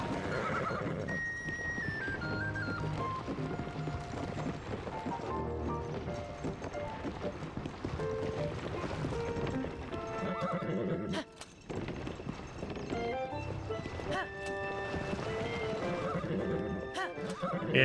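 In The Legend of Zelda: Tears of the Kingdom, a horse whinnies with drawn-out neighs and galloping hooves clip-clop under continuous game music, moderately loud throughout.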